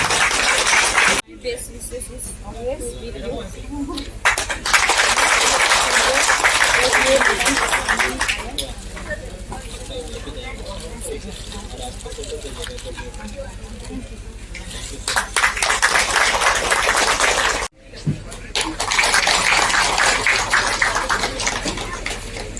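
Audience applause breaks out at a futsal court inauguration in Gidding village, Changlang, filling most of the stretch in broad bursts that pause briefly and resume, with talk and crowd noise mixed in.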